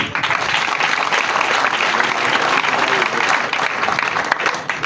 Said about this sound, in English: give a thunderous hand clap to our parliamentary team